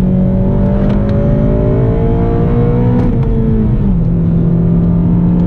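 A manual-transmission car engine, loud and close, revs up and settles in a sustained rising and falling drone as the driver blips the throttle to rev-match a downshift into third gear.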